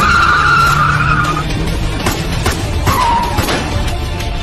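Black car screeching to a stop in an action film scene, a loud tire squeal lasting over a second followed by scraping, thuds and a second shorter screech, close and harsh.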